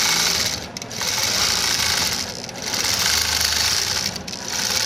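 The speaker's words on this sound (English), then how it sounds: "As it's sewing, on the screen it shows you where it's sewing." Statler Stitcher computerized quilting machine stitching with variegated thread, a loud steady whirring drone with a rapid needle rhythm that swells and dips slightly every couple of seconds.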